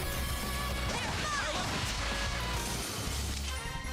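A Shatter spell goes off in an RPG video game, with a loud smashing, cracking burst and sweeping whooshes over a dense, continuous game soundtrack.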